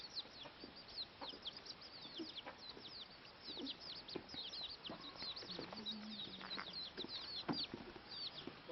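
Chickens cluck and chatter faintly at a distance in an outdoor yard, intermittent calls scattered over a steady background of chirping birds.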